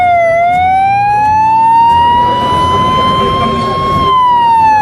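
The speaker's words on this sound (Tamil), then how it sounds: "ஃபஸ்ட்டு வகை வந்து வெயில் அப்படின்றாங்க." An ambulance siren in the wail pattern, a loud, steady tone sweeping slowly up and down in long, drawn-out cycles, heard up close with a few faint background noises.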